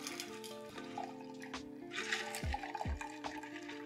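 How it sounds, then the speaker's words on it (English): A smoked vodka limoncello mule pours from a shaker into a copper mug, a close liquid splash and gurgle with a few clinks and small knocks. "now we're going to pour it right into our copper mug here"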